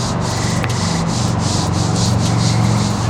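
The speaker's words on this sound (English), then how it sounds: "rub it with your palm" A palm rubs steadily across a vinyl sticker pressed onto a car body, a continuous loud friction hiss with a rhythmic swishing pulse and no talking.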